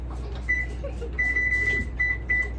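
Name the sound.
oven being switched on to preheat, control beeps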